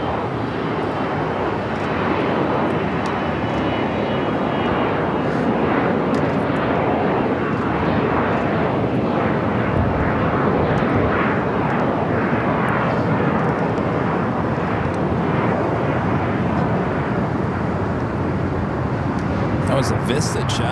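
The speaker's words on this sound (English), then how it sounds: "That was a Vista jet heading to Oakland, California, Global 6000." A Vista jet Global 6000 business jet takes off from LAX, its broad engine roar loud and steady for about twenty seconds with faint voices underneath.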